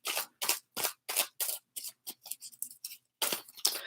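Playing cards are shuffled repeatedly, each riffle a crisp, close fluttering burst in an even rhythm, with short pauses between.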